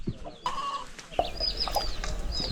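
Prized cockfighting-type chickens on a Puerto Rico coffee and coconut farm cluck in short bursts at close range, with scattered rooster-like calls and rustling farm ambience and no talk.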